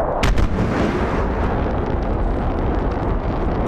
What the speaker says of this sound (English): They're firing at the F-15s